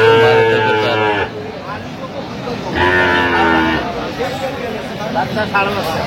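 Two long, loud moos from dairy cattle, one after another with a pause between, over a busy background of murmuring voices at Aftabganj cattle market, Dinajpur.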